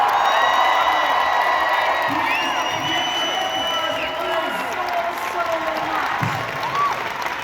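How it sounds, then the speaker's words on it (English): Fan convention crowd at a celebrity panel cheers and claps, with whoops and shouts rising over steady applause while a presenter talks into the microphone throughout. "please give a round of applause for Timothy"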